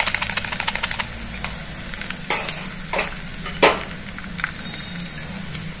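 Cumin, green chillies, asafoetida and ginger sizzle in hot oil for a baingan bharta. The crackling is close and continuous, broken by sharp spattering bursts and stirring clatter, with no talking.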